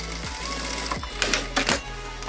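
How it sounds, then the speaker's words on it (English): A sewing machine stitches baseball hat pieces together in short bursts, its rapid mechanical whirring starting and stopping several times with clicks between runs, close up. "Right now I'm making sure that I'm actually sewing both pieces together"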